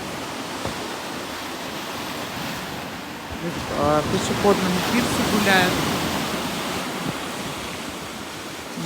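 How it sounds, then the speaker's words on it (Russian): Sea surf and wind roll steadily onto the shore by a pedestrian pier in winter Zelenogradsk, a constant broad rush that swells in the middle while someone talks over it. "Море шумит"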